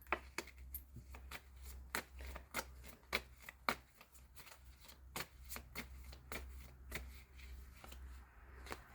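Tarot cards being shuffled give sharp riffling snaps at an uneven rhythm, close and fairly quiet over a low steady hum, with no voices.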